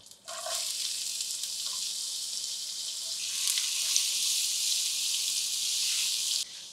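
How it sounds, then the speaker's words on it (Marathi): Finely chopped onion hits hot oil with cumin, asafoetida and curry leaves for kanda poha and sizzles loudly and evenly, then cuts off near the end. "यामध्ये घालूयात बारीक चिरलेला कांदा."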